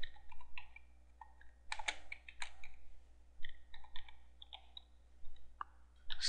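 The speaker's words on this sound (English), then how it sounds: "you need to type that exact same thing in here" Text being typed on a computer keyboard: irregular bursts of close, crisp key clicks with short pauses between runs, heard alone with a steady low hum underneath.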